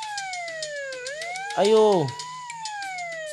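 A wailing ambulance siren in a children's video game sweeps up and down over a brief burst of cartoonish sound effects, fairly loud and close, with a voice calling out.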